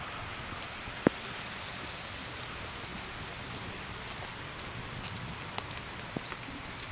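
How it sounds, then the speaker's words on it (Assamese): Heavy rain falls outdoors at the Srimanta Sankardev Kalakshetra, a steady, even hiss of downpour close to the microphone with a single sharp click near the start and a few faint taps later. "ইমান বৰষুণ দিছে চাওকচোন"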